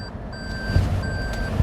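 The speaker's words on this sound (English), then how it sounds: "Let's back this car up." A car's reversing alarm beeps steadily with evenly spaced electronic tones while backing up, close and clear over a low engine rumble.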